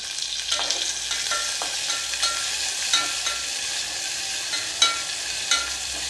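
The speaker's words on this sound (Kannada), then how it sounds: "ಈಗ ಇದನ್ನು ಚೆನ್ನಾಗಿ ಫ್ರೈ ಮಾಡಬೇಕು ನಾವು" Chopped onions frying in a pan, a steady sizzle broken by repeated scraping stirs and light clinks of a utensil at irregular intervals.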